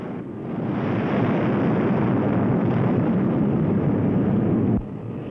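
An A-6 Intruder jet is launched off an aircraft carrier by catapult, a loud sustained jet roar with wind rush that swells over the first second, holds steady, then cuts down sharply near the end.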